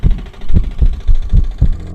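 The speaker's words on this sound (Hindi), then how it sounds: "शंभू की धड़कनें तेज होने लगती हैं।" A fast heartbeat throbs in deep, muffled thumps, about three per second in a steady, urgent rhythm, loud and close with nothing else over it.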